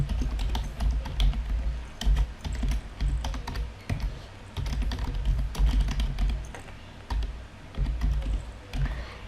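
Rapid, steady keystrokes on a computer keyboard while text is entered in Word 2013, the clicking continuous and close with brief pauses between bursts.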